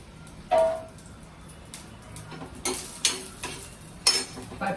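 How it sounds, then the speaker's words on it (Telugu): Roasted peanuts dropped into a blender jar while making chutney: a few separate hard clatters and rattles, close and fairly quiet, spaced over several seconds. "ఇప్పుడు ఇది వేయించిన పల్లీలు కూడా ఈ జార్లో వేసేస్తున్నానండి"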